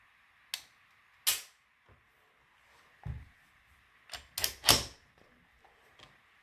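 SAR K12 pistol dry-fired on a tabletop: several sharp metallic clicks and snaps of the trigger and action at irregular intervals, close and crisp, with handling noise between them and no speech.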